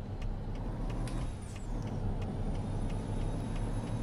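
Kenworth T800 truck in Euro Truck Simulator 2, with a steady low engine drone running throughout, overlaid by hissing air-brake bursts and a brief high whine, no speech.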